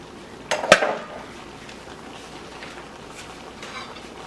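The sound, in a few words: plantain and yuca thrown into cooking pot for sancocho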